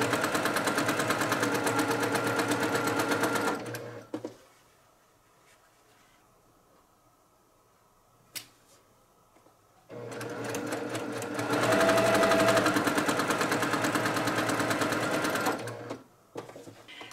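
Sewing machine stitching quilt pinwheel pieces, two long runs of rapid, even needle chatter separated by a quiet pause with a single sharp click, close and loud.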